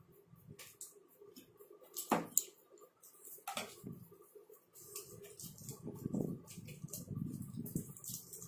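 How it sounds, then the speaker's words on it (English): Clay for Khurja-style pottery is squeezed and mixed by hand, giving faint, soft squelching and wet pressing that swell toward the end, with a few light knocks, all quiet and close. "I'm going to mix the clay nicely"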